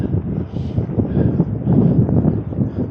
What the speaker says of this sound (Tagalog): Alright, mahangin ulit.